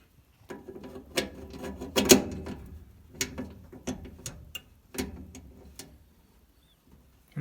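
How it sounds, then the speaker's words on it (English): A socket wrench snugs metal screws on a GE gas dryer, producing close, rapid ratcheting clicks in short bursts separated by brief pauses. "I'm just going to get the socket wrench on them and just give them a little snugging up"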